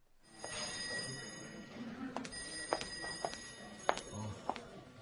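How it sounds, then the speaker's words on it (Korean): An office telephone rings in repeated short bursts against a busy room murmur, with several sharp clicks and knocks scattered through; no one speaks. "여기도 전화가 엄청나게 오군요."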